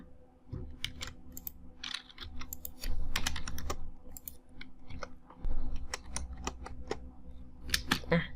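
Fingers tapping on a computer keyboard in a quiet room while entering a measurement in SketchUp, irregular close clicks and a few firmer key presses with short pauses between bursts.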